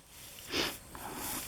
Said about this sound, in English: Sorry for the sniffing. My nose is dripping.